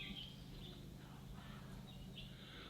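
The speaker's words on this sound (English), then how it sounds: "the birds actually love nesting in these trees, as you can listen to them" Birds chirp faintly from trees nesting in a Maui garden in Hawaii, with scattered thin calls over a quiet, steady outdoor background.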